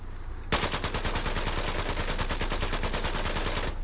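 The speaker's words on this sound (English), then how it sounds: "I'm just gonna shoot it off, fully automatic a little bit." Rapid full-auto burst from an AN-94 rifle in Battlefield 4, a dense run of evenly spaced loud shots lasting about three seconds and starting abruptly after a brief pause.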